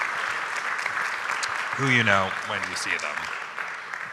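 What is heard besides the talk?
audience applause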